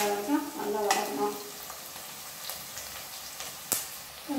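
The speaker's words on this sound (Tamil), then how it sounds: "பிரியாணி இலை இதெல்லாம் போட்டு வெங்காயம் போட்டு நல்லா வதக்கணும்" Onions, bay leaf and whole spices frying in oil for chicken biryani, a steady sizzle with scattered stirring clicks and a sharp clatter near the end, with a brief voice at the start.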